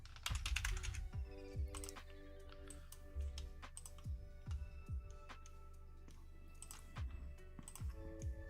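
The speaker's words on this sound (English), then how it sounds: "I'm typing around a cat right now." Rapid clicking keystrokes on a computer keyboard come in irregular bursts and pauses, close and fairly quiet, alongside faint electronic tones during a Starship Simulator development session, with no talk.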